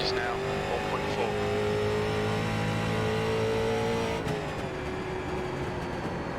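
A Street Stock Class C car in the iRacing racing game holds a steady, buzzing engine drone with layered harmonic tones, dipping and shifting pitch near the end as the throttle eases, loud and continuous.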